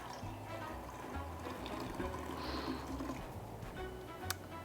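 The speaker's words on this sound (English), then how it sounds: "So we're just gonna pour that right in there." Quiet, steady pour of pomegranate juice into a dish during home cooking of a Christmas flatbread, a soft continuous liquid stream, close but faint over low room hum.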